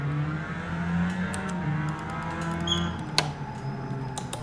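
Sim racing game car engine during a test drive, a steady droning engine hum with shifting pitch and faint high ticking clicks, one sharp click near the end, no talk.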